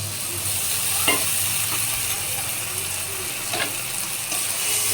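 Mixed spices for a soybean curry sautéing in a hot pan, giving a continuous sizzle with a few scraping stirs of a utensil.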